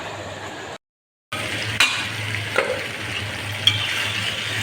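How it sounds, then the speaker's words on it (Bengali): Prawn, ridge gourd and pumpkin curry is stirred in a pan, with a steady close sizzle, a brief silent gap, then a few sharp scrapes and clinks of the spoon against the pan. "এবার আমি আবার একটু নাড়াচাড়া করে আমি আবার একটু ঢেকে দেবো একটা মিডিয়াম গ্যাস করে নিচ্ছি"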